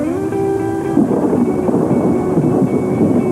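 A loud thunderstorm with rain: a deep rolling rumble under a dense, steady downpour that continues without a break.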